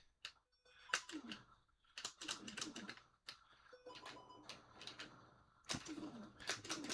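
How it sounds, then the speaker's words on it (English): Rapid, irregular plastic clicks from a classic Epyx joystick used on an Atari, close and fairly quiet, coming in clustered bursts with short pauses between them. "If you hear a lot of clicking, I'm using my classic Epix joystick on the Atari."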